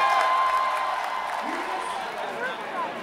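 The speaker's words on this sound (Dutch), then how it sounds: "gaat er bij de PvdA gejuich op" PvdA party supporters cheering and applauding at a 2006 Dutch election-night gathering, a dense crowd roar with clapping that starts loud and tapers slightly, with a voice speaking over it.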